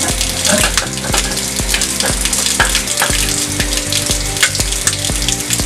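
Hot tap water pours into a small cap, making a continuous splashing, hissing flow that plays loudly over steady background music.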